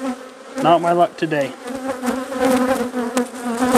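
Honey bees buzz loudly and continuously around an open beehive during an inspection, with a person speaking briefly over the droning hum.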